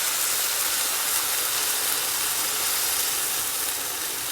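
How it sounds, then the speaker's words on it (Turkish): Water pouring into a pot of toasted, washed rice for pilaf, a steady broad hiss and sizzle held at even loudness for several seconds, close and alone with no talk. "Suyunu da koyuyorum önemli yani"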